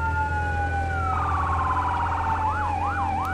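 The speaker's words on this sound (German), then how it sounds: "Da habe ich auch meinen Martinshorn angemacht." A fire engine's siren in the game Firefighting Simulator: The Squad switches on, rising into a steady wail, then a rapid warble, then looping swoops, loud and close over a constant low engine drone.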